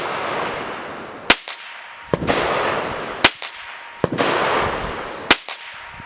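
.22 rifle firing CCI Mini Mag rounds, sharp cracks at a steady pace of roughly one per second with hissy rumbling between them, loud and close, no voices.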